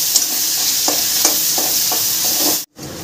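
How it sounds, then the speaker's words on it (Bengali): Two medium chopped onions fry in hot oil in a pan for a prawn and pointed gourd curry, a loud steady sizzle broken by regular scraping stirs and a brief silent gap near the end. "পেঁয়াজটাকে আমি একটু লাল করে ভেজে নেব।"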